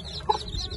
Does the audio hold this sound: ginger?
no